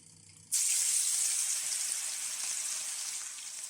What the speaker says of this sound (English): we're gonna start frying.